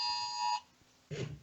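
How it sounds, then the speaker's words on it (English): A phone sounds an Amber Alert emergency tone, a loud steady multi-tone alarm blaring for about half a second and cutting off abruptly, followed by a quiet gap before a voice starts speaking. "That was my phone. There was an Amber Alert."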